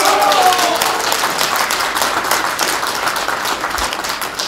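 A roomful of attendees at a Daejeon party leadership meeting applauds, a dense sustained clapping that stays loud for the whole stretch and fades slightly toward the end.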